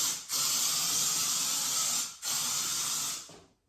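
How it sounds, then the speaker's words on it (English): Two long, loud hissing bursts from an aerosol bug spray can sprayed along a room's perimeter, close by, separated by a short pause. "actually I'm spraying the perimeter"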